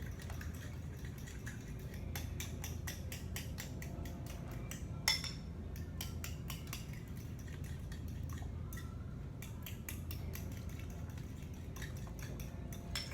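Two ingredients are mixed together in a bowl in a home kitchen, with faint, repeated clinks and light scraping of a utensil against the bowl over a low background hum.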